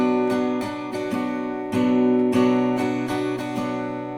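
Acoustic guitar strumming in an up, up, up, down pattern, a rhythmic chain of about a dozen close, loud chord strokes ringing under one another, with no talk.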